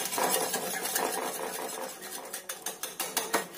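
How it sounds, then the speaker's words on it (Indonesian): A spoon stirs eggs and sugar in a bowl for muffin batter, a steady scraping swirl that turns into rhythmic knocks and clinks against the bowl toward the end, close and fairly loud with no talk. "Aduk lagi sampai gula dan telurnya ini larut campur rata."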